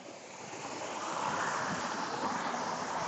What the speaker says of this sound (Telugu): వాటర్ చూడండి ఒకసారి ఎలా దుంకుతున్నాయో పై నుంచి